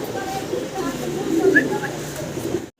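Lahori pigeons coo in a low, soft rumble through a short stretch while someone talks over them nearby.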